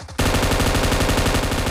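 M249 light machine gun in PUBG fires a sustained, rapid automatic burst that starts abruptly after a brief quiet moment and stays loud and close throughout.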